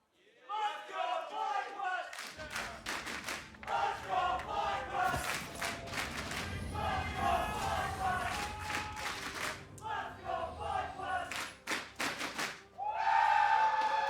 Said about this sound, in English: FlyQuest fans having the thunder sticks ready to go